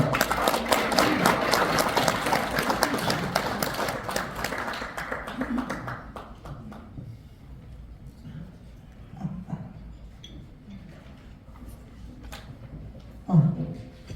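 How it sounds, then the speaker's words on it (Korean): An audience at a business breakfast forum claps warmly to welcome a guest professor, a full burst of applause that thins out after about six seconds into scattered, faint claps and room noise. "여러분들 최현희 교수님 뜨거운 박수로 맞이해주시기 바랍니다"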